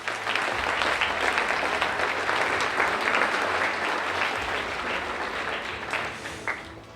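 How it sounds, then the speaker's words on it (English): An audience at a spring athletic awards ceremony applauds a lacrosse team with loud, steady, dense clapping that fills about seven seconds and eases slightly toward the end, with no voices over it. "Please give them a big round of applause."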